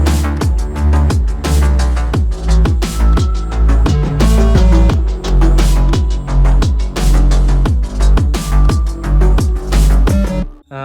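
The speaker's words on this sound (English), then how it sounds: "these are the same 808s, but I drew a melody 1 octave high, and these are like counter melodies" 808 bass counter melody pitched one octave higher, with distortion and stereo shaping, plays in a loud pop track, its deep punchy notes sliding and repeating in a steady rhythm over drums until an abrupt stop near the end.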